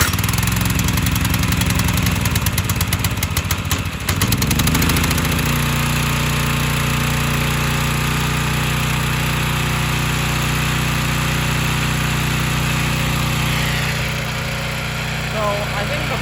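Generac 3100 PSI pressure washer with an AR pump, its small engine sputtering to life after a pull start, then settling into a steady, loud, continuous running drone close by.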